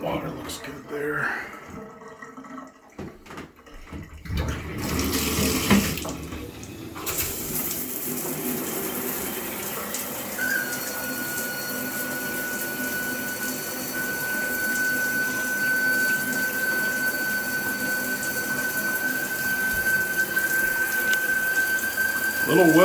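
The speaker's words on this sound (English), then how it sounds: "Little whistle there on the shower." A house shower runs with steady water hiss, and from about ten seconds a thin, sustained whistle rises above it and persists to the end, with a possible venting issue noted; handling noises and movement come early.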